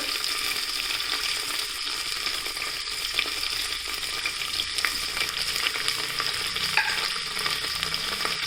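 Beans and carrot fry in a pan for a vegetable bread pulav made without onion or garlic, giving a loud, continuous sizzle with faint stirring scrapes and no talk.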